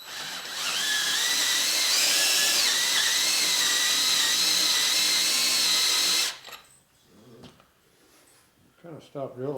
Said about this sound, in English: Kind of stopped drilling.